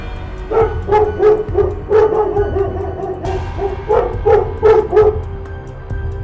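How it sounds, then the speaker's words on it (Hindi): A village chief's dog barks at night in repeated loud yaps, about eight sharp barks in an irregular rhythm, close and alone with no talking. "रात में जैसे ही रंगा और बिल्ला चोरी करने के लिए आते हैं, तभी मुखिया का कुत्ता शोर मचा देता है।"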